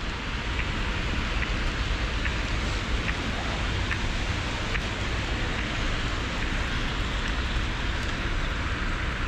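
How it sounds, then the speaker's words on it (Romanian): Heavy rain pours steadily during a bicycle commute, a dense continuous hiss with faint periodic ticks, loud and unbroken throughout with no voices. "Cred că plouă un pic cam tare."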